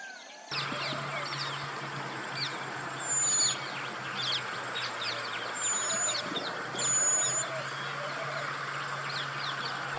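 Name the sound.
birdsong in a forest at evening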